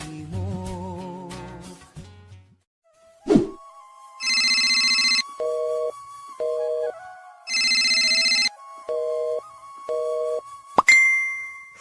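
A telephone rings with a melodic electronic ringtone in repeated loud bursts, a short tune first and then alternating tone blocks, clear and alone with no talk.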